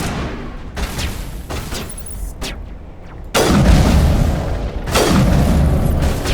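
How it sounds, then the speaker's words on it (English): Loud gunfire from the video game Mass Effect: heavy booming shots in repeated bursts, with brief lulls between volleys and a sustained barrage toward the end. "Who's shooting at us?"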